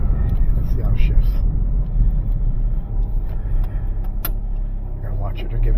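Dodge Journey SUV driving, with a low engine rumble and road noise rising and falling through gear changes, heard from inside the cabin with brief clicks and rattles.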